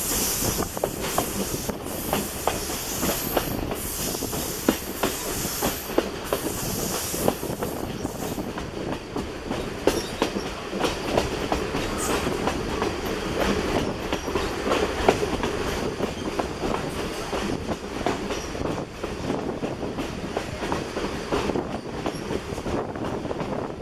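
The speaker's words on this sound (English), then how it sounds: "I've got to give you the train going around the curve here." A steam train on the Essex line rounds a curve with a loud, steady rumble, hissing steam and rhythmic clickety-clack of the wheels running on and on, with brief squeals from the rails.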